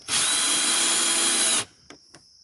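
A power drill whines loudly and continuously for about a second and a half, driving a screw without a pilot hole into an eBay lip on a 2001 Miata front bumper, then cuts off, followed by two brief clicks.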